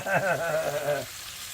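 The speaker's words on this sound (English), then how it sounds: "I better turn my heat down on my grease" Hot grease sizzling in a pan, a steady crackling hiss under a man's speech that cuts off, leaving the frying fainter and alone.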